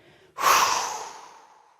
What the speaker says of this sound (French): vous allez expulser par la bouche et jeter avec la main tout ce stress qui vous envahit